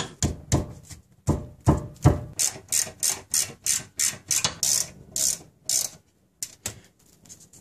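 A hand ratchet loosening the rear brake caliper bracket bolts on a Honda Accord: rapid, close clicking bursts in a steady back-and-forth rhythm, with brief pauses between strokes.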